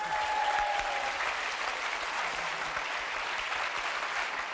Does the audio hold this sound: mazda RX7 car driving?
no